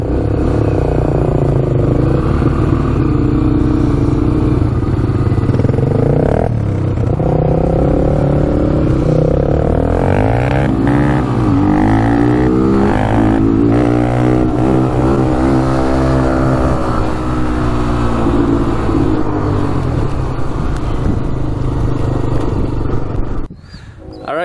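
Honda TRX 300EX and TRX 250X ATVs racing, their engines revving hard with rising and falling pitch sweeps and rattly clatter, loud and close, with occasional voices in the background.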